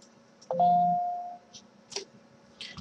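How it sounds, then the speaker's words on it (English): A phone text-message notification tone sounds once: a short, clear electronic chime that rings briefly and fades, over a quiet background with a few faint scattered noises. "Got another text message."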